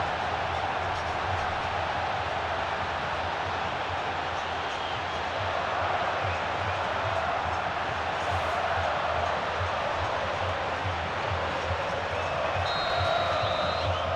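Stadium crowd noise from a PES football match, Grêmio against Santa Cruz, swelling after a Grêmio goal: a dense, steady roar of fans that carries on without letup, loud and continuous, with no voices standing out above it.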